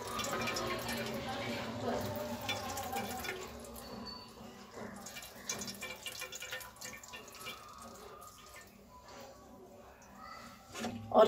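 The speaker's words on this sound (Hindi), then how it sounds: "इसका पानी अच्छी तरह ऐसे निचोड़ देंगे हम।" Water drips and trickles as a cloth holding milk curds for kalakand is squeezed, quiet and uneven, with a voice speaking at times over it.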